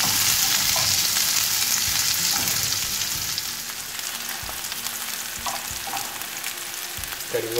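Garlic and onion fry in an oil-filled pan for Kerala beef fry, a continuous sizzle broken by occasional soft scrapes and taps of a spoon stirring, close up and without speech.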